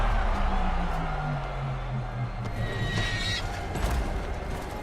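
A horse whinnies loudly in the video game Horizon Zero Dawn, its call rising and falling over a busy background with faint crowd-like noise and some hoof-like clatter.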